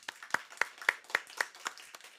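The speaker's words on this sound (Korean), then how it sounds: "우리 힘찬 환영과 격려의 박수 함께 하겠습니다" A church congregation at a Sunday service claps in a sparse, fairly distinct rhythm, a handful of beats about a quarter second apart, moderately near and not very loud.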